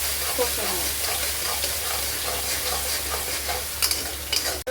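Bay leaves and ground onion paste fry in hot oil for a fish-head cabbage dish, giving a steady, close, dense sizzle with faint stirring scrapes and a sharper crackle near the end; no one speaks.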